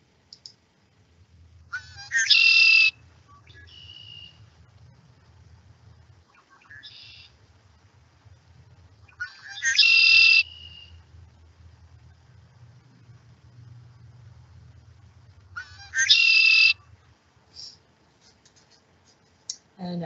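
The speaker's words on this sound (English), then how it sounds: "this is the sound of the red-winged blackbird." A red-winged blackbird sings in a wetland: three loud, buzzy trilled calls spaced several seconds apart, with softer short notes between them, over a steady low ambient hum.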